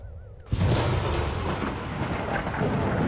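Lightning strike in a video game hits with a sudden, loud crack after a quiet moment, then rolls into a sustained, heavy rumble that holds steady for several seconds.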